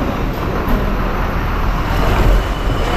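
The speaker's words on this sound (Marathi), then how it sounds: "तर मित्रांनो रत्नागिरी गाडी आली बघा" Ratnagiri train pulling into Khed station, a loud continuous rumbling roar of the train up close, with no talking.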